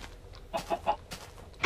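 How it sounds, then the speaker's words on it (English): Chicken clucking in Minecraft: a few short, bright clucks in quick succession, fairly close and clear, with no talk over them. "Is that you laying eggs, Mr. Chicken?"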